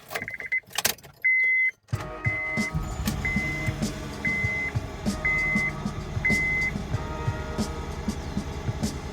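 2001 Honda Civic LX sedan engine running rough after starting, a low uneven idle preceded by clicks and a short whir, with repeated electronic chimes beeping over it.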